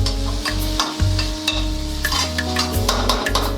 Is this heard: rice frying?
yes